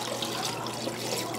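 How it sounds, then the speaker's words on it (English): Water pours steadily over beans in a crock pot, a continuous close splashing trickle for a brief moment. "You wanna cover the beans with water."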